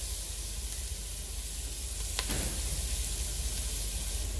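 Onions and garlic sizzling in butter make a soft, steady hiss throughout, with one brief sharp click midway and no voices.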